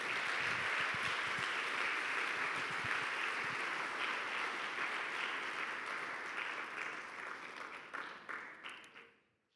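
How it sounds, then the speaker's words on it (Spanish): A church congregation applauds during a sermon, a sustained wash of many hands clapping, fairly faint and distant, that holds steady for several seconds before thinning into a few scattered claps and fading out. "Dale un aplauso al Señor,"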